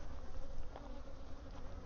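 Honey bees buzz around a hive in a colony being fixed after a laying worker problem, a steady low drone of many wings, fairly faint and constant, with no talking.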